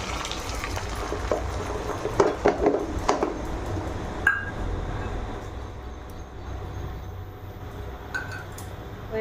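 Egg poured into hot oil in a wok sets off a steady sizzle with a few clattering knocks early on, then the frying hiss continues more quietly.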